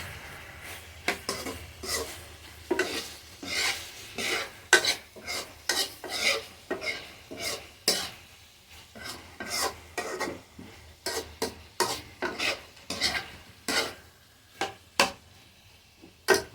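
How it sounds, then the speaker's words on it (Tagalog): Pork adobo sautés in its own rendered fat while a spatula scrapes the pan in rhythmic, repeated strokes, close and clear, over a light steady sizzle. "Gisa na sa sariling mantika niya."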